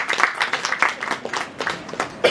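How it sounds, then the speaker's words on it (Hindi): Audience at a Hindi film trailer launch clapping for the film team: a fairly close burst of hand claps with uneven, rhythmic surges, no talk. "तो एक बार हमारी इस टीम के लिए जरा जोरदार तालियां बजा दीजिए।"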